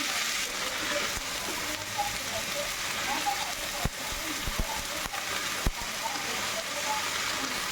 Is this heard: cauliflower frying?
yes